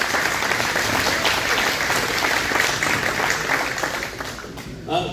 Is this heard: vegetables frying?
no